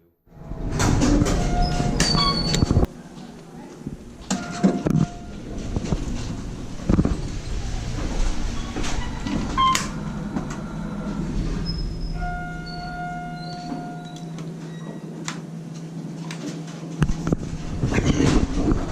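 An Otis Series 1 hydraulic elevator in Bradenton, Florida, installed in 1997, opens its doors with a mechanical rumble and sliding clatter, followed by chimes, tonal beeps and a low motor hum as the car sits idle.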